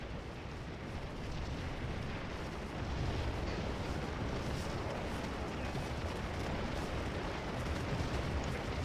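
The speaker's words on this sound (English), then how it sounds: "get those cannons moving good" Cannon and artillery fire in the Scourge of War Civil War battle game, a dense continuous barrage of booming shots with a rumbling roar that grows slightly louder after a few seconds and holds steady.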